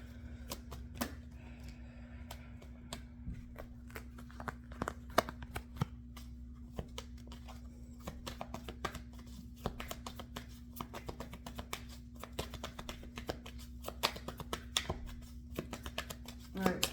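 Two decks of playing cards being shuffled, faint and close, with scattered crisp riffling clicks over a steady low hum and quiet room tone.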